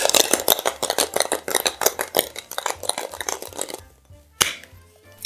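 Ice cubes rattle and clatter hard inside a metal cocktail shaker tin, mixing a Man O' War cocktail: a dense, loud run of rapid shaking hits that stops abruptly, followed by one last sharp clink.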